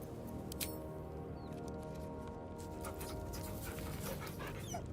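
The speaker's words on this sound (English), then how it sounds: "Oh, pet the doggy." A dog in the fantasy video game Baldur's Gate 3 pants steadily and whimpers softly in the player's camp, close and continuous over a low game ambience.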